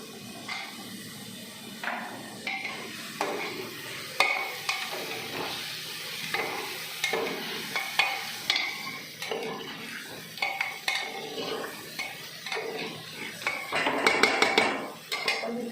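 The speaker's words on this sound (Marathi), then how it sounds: "आपण हे पनीर स्लायसेस फ्राय करायला टाकूया" Paneer slices frying in a pan, a steady sizzle under repeated clatter and scraping of a utensil against the metal pan, growing busier toward the end, with no talking.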